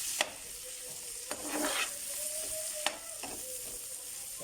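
Onions and thyme fry in a pot with a soft, steady sizzle, while a utensil scrapes and stirs in several brief clattering strokes; quiet and close, with no talk.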